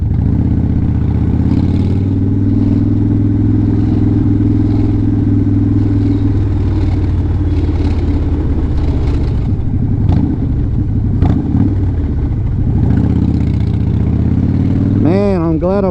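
Motorcycle engine while riding on a camping trip, a loud steady low drone with wind rush and road rumble, a rider occasionally talking over it.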